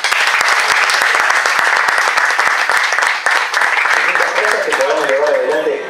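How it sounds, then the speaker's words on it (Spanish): Loud, sustained applause from a crowd at a strategic-plan conference fills the whole stretch, dense clapping dipping briefly midway, with faint voices and a hint of tonal sound emerging near the end. "le vamos a pedir para ella un aplauso."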